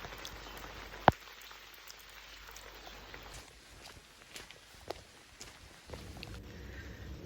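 Rain patters steadily on leaves and the ground among trees on a Peak District sheep farm, soft and close, with occasional footsteps and one sharp knock.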